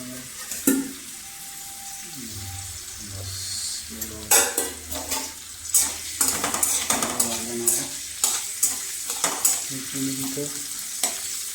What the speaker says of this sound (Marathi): तर तेलात बनवाय घेतलं आहे आपण लसणात